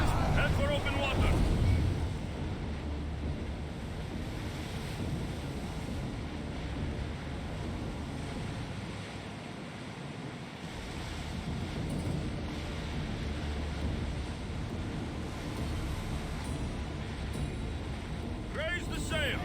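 Ocean waves and wind sweep steadily around a rowed warship putting out to open water in Assassin's Creed Odyssey, a continuous rushing wash with brief gusts, while voices speak over it.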